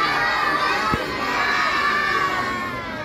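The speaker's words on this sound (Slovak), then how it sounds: "Zakričte, Santa, poď medzi nás" A crowd of children at a Coca-Cola Christmas truck event in Levice shouts together for Santa, a loud, sustained burst of young voices that stays dense and steady throughout.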